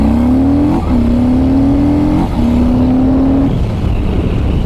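A Harley-Davidson Street Bob motorcycle revving hard in first gear, engine note climbing steadily and loud and close, with brief dips between pulls as the throttle surges.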